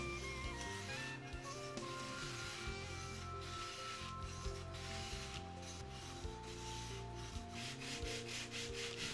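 A sanding block rubs back and forth over a wooden leading edge radius, close and rhythmic scraping strokes repeating steadily under a quiet, tonal background.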